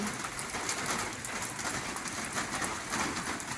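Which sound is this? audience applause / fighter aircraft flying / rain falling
rain falling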